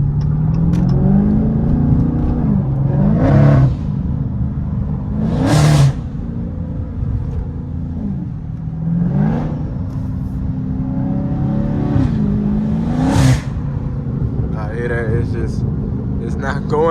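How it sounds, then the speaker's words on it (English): A car's engine revs repeatedly while its wheels spin without traction, rising in several loud whining surges over a constant drone, with a voice faintly audible near the end. "the car, all it do is spinning. Like, it's not catching no type of traction at all."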